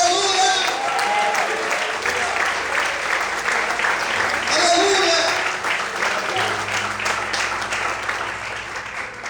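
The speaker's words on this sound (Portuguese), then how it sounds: "Você pode glorificar e aplaudir ao Senhor" Congregation at a church service applauding the Lord, sustained loud clapping from many hands with voices and organ-like tones underneath, fading slightly toward the end.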